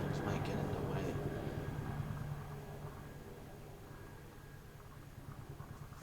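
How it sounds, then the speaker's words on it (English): Helicopters fly by with a steady, low rhythmic rotor thrum, loud at first and fading as they pass, with a faint voice underneath. "I'm just gonna let the helicopters fly by."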